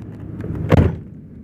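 A single door thud on a 1991 Chevy Silverado 2500 pickup, one close, solid slam rising briefly out of a quiet idling background.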